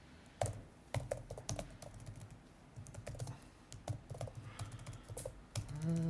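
Someone types on a computer keyboard while coding, giving irregular clicks and clacks in short runs with pauses, close and moderately loud, with no talk.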